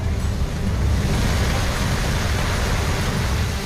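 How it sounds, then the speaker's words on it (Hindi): Heavy monsoon rain over a flooded city in Agar Malwa, a dense, steady roar of downpour and rushing water filling the whole scene without a break. "आगर मालवा में भारी बारिश पूरे शहर पर मुसीबत बन गई है"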